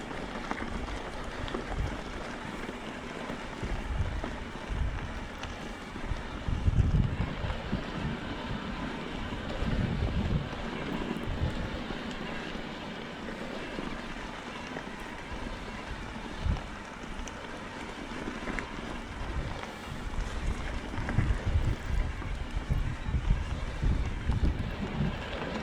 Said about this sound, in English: there is a bit of a wind building